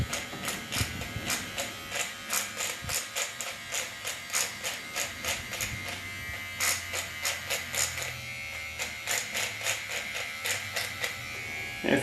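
An electric razor trims sideburns, its close, steady buzz pulsing in short repeated strokes as it passes over the hair again and again.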